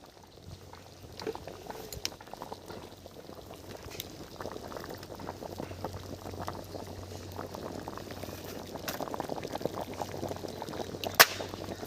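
A pot of duck egg curry simmering on the stove, a soft, steady bubbling and gentle liquid burble at moderate level, holding through the whole stretch with no voices.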